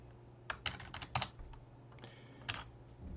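Several sharp keystrokes on a computer keyboard while entering a spreadsheet formula, closing a parenthesis and pressing Enter; irregular clicks close up, ending in a louder final press, with no talking.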